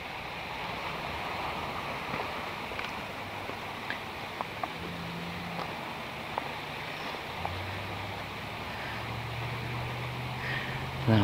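A small river, the North Fork, flows through snowy woods, a steady broad wash of water with wind-like hiss, faint and continuous, with a few scattered soft knocks and a low hum under it.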